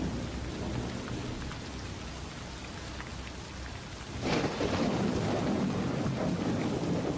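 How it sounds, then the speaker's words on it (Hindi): Heavy rain pours steadily onto the ground, a dense close hiss that swells louder partway through and keeps going with no voices. "बारिश की बूंदें भारी होकर जमीन पर गिर रही थीं"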